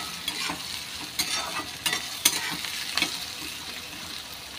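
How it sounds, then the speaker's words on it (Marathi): Chopped onion sautés in hot tempering oil with curry leaves for upma. A close, continuous sizzle is broken by repeated scraping stirs of a spoon against the pan, and no one speaks. "आता हा कांदा जो आहे तो छानपैकी आपण परतून घेऊया।"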